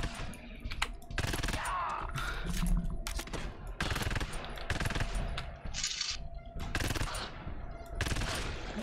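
Automatic gunfire in the co-op horror shooter GTFO, rapid bursts of shots crackling in repeated volleys with short gaps, loud and close over the game's ambient noise, with faint voices in between.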